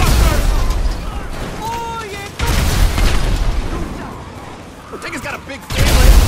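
Grenade launcher blasts in the game GTA V: heavy booming explosions with a sharp cut midway and another burst near the end, under a Polish-speaking voice.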